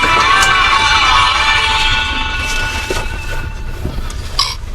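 Sleeper train running on rails in India, slowing to stop at a station, with a steady rumble and high metallic whine that fades, then a few faint clanks and squeaks near the end.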